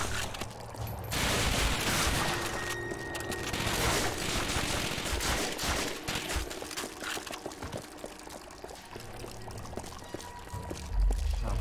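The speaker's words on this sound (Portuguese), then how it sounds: "Agora ele atirou" Gunfire in the PS2 World War II game Call of Duty: Finest Hour crackles as dense, continuous rattling bursts within loud battle noise, with no talking.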